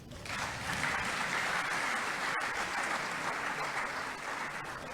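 Applause in the National Assembly chamber, a sustained wash of many people clapping at a moderate distance, rising quickly and holding steady for several seconds with no voices over it.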